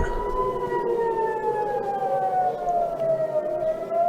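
A national emergency alarm siren wails steadily in a long tone that slowly slides downward in pitch, moderately loud over a constant background hiss, with no talking.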